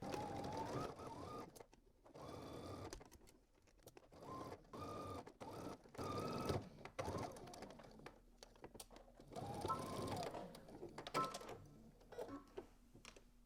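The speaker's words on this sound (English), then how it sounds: "we're gonna go ahead and stitch using 5/8 of an inch seam allowance from one end to the other." Sewing machine stitching a dress seam at a 5/8-inch seam allowance while attaching a collar on a Simplicity S9740/S9741 pattern, heard as close, repeated bursts of rapid mechanical whirring separated by short pauses.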